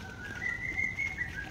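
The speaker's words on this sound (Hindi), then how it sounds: "कोयल," An Asian koel calls in a garden, a steady whistled note repeating over a wide hum of background noise, with no voices present.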